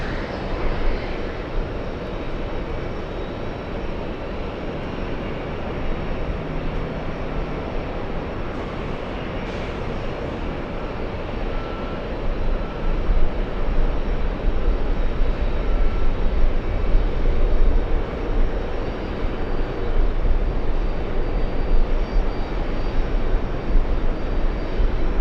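A Delta Airbus A330 jet at JFK Airport produces a continuous heavy engine roar that swells a little louder midway and stays dense to the end, with no voices.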